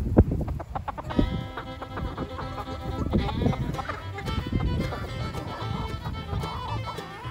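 A small rooster clucks repeatedly nearby amid a busy farmyard, with bleating animals and other fowl overlapping throughout.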